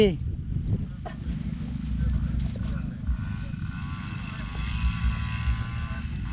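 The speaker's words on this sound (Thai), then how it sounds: "เวลาเราเล่นเครื่องเยอะ มันจะต้องมีเสียงดังนิดนึง" A paramotor engine with propeller drones loudly and steadily close by, with a low rumbling roar that continues throughout.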